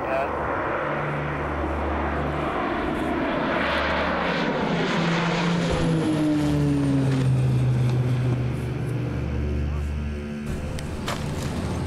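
Propeller aircraft engine droning steadily overhead during a supply drop of water and food to smokejumper firefighters at a wildfire in the USA, a loud continuous hum with pitch sweeping as the plane passes, voices faintly mixed in.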